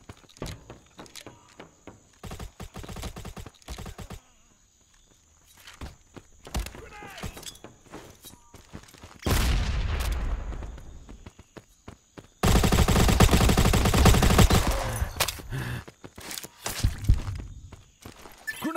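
Gunfire in the shooter game Modern Ops: scattered single shots and short bursts, then a long loud burst of automatic fire, with footsteps and thuds between them.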